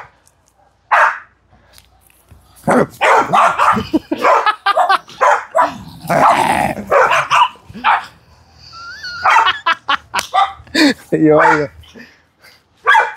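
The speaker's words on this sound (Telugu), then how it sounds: "వీళ్ళ నలుగురే కాదు, చుట్టుపక్కల ఉన్న కుక్కలన్నీ అందుకున్నాయి" Several dogs bark in bursts, with more neighbourhood dogs joining from nearby and farther off, mixed with whimpers and yips; someone talks between and over the barking in a backyard with five dogs in Australia.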